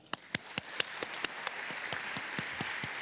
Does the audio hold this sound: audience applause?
yes